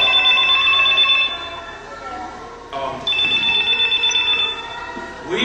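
A telephone rings during a church sermon, repeated bright electronic trills in two bursts with a short gap between, loud and close, with people speaking under and around it.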